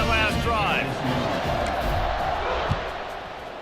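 Stadium crowd cheering in College Football 26, a dense roar that swells at the start and stays steady beneath continuous commentary.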